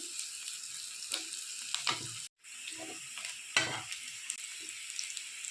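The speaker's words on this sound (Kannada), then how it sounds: "ಈಗ ಹಸಿಮೆಣಸು, 2 ಹಸಿಮೆಣಸು ಕಟ್ ಮಾಡಿರೋದು, ಇದಿಷ್ಟು ಚೆನ್ನಾಗಿ ಫ್ರೈ ಆಗಬೇಕು." Chopped green chillies fry in a pan with a steady close sizzle, broken by a brief silent gap and a few louder stirring scrapes.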